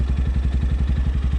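Motorcycle engine running steadily with a rapid, even pulsing throb, close and loud, as the clutch is worked; no voices.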